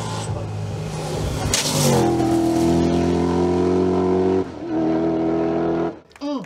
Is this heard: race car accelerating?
yes